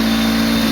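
Honda D16Z6 engine running at its first start-up, a brief, steady, close mechanical hum with a strong low droning tone and no voices.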